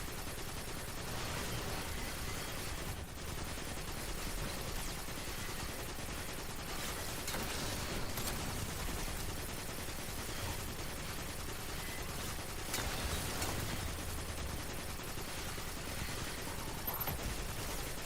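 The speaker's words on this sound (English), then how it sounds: "I can just sit here and just dump the mag" A gun empties a full magazine in a video game as a steady, dense stream of rapid shots. The firing is continuous but fairly quiet and blends into the surrounding game noise.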